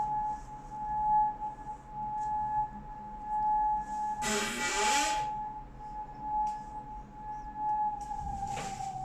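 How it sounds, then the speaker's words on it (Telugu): An air raid siren in Kuwait before dawn holds a steady, sustained wail through the whole stretch, with a brief burst of broadband noise partway through and a faint rustle near the end. "సైరన్ అయితే మోగుతాను."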